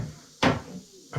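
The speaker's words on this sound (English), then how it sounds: "Again, the door's wide open, but when I close it, I always close it." An animal enclosure door in a venom room is pushed shut with a single sharp, close thud, standing out from quiet background noise.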